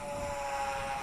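An Eachine Mini P47 Razorback RC plane flies in the wind, its small motor giving a steady, faint high whine with a constant pitch and no talk.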